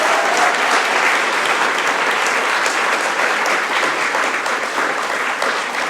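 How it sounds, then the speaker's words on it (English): At a PechaKucha Night in the Hamptons, the crowd gives the presenters a warm round of applause, loud, close and dense clapping that continues unbroken from start to finish. "please give the presenters another warm round of applause"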